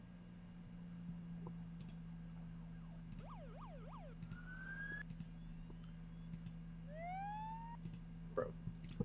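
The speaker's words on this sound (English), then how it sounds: "Surely it's not this hard to find siren sound effect." A synthesized siren sound effect plays in short bursts, a quick up-down wail followed by rising sweeps, over a steady low hum with scattered keyboard clicks and mouse taps.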